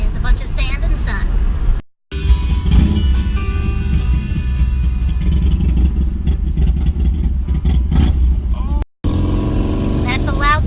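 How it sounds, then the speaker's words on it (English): Loud road traffic roars past near a pier by a mountain tunnel, a dense, continuous engine rumble close by, broken by two short cuts to silence. "That's a loud traffic companion."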